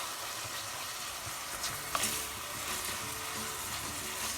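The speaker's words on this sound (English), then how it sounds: "I'm going to roast these onions for 2 to 3 minutes first on medium slow flame" Onions frying in a pan over a medium-low flame give a steady, even sizzle and crackle throughout, with a small clink of a utensil near the middle and no voices.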